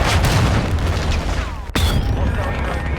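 A grenade explodes in Modern Warfare 3 multiplayer: one sharp, loud burst midway, set against steady battlefield noise and background game chatter.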